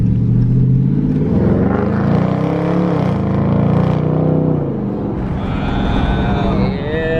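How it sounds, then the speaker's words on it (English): Loud, raspy exhaust of a stock 2019 Dodge Charger R/T Daytona with a muffler delete, roaring as the engine revs up and falls back, with deep burbling tones up close. "this car just is stock with just a muffler delete"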